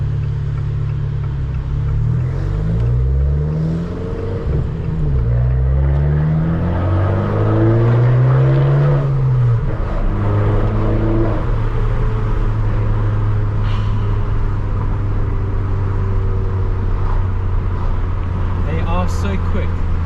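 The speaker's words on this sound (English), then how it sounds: "Be prepared for a whole lot of turbo and exhaust." An Abarth 595 turbo accelerates hard, engine note sweeping up through the gears with a raspy exhaust rumble and turbo noise, loud and close, ending in a steady drone.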